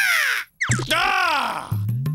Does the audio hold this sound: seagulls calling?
yes